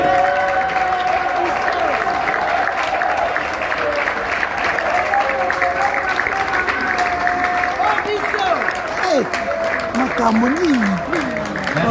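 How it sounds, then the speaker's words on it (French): Applause for award nominees at an awards ceremony: steady, loud crowd clapping runs throughout with voices and shouts mixed in, along with a sustained musical tone underneath. "on va aussi applaudir ces nominés"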